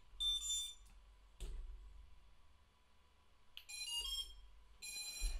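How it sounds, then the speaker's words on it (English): A drone flight controller left unarmed repeatedly sounds electronic beeps, bursts of high-pitched tones at the start and in two clusters near the end, with quiet gaps between them and a faint low hum underneath. "That beeping will happen every 2 minutes that you don't arm"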